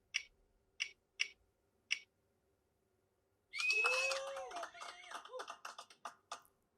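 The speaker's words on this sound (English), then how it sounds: "we're going to get clicking. And we're going to spin it." A prize wheel spun by hand gives a few separate clicks, then a fast run of ticks that slows and thins out as it winds down, while excited voices cut in over it.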